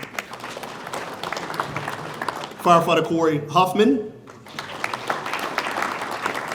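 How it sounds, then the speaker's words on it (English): Audience clapping at a fire and rescue awards ceremony as recipients are named, steady applause running under a voice reading a name over a loudspeaker. "we'll keep clapping"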